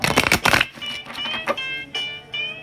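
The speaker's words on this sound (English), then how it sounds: "Let's get one more good shuffle." Tarot cards are shuffled in a few quick riffling bursts close up, followed by lighter tapping and sliding of the deck with faint tonal background sounds.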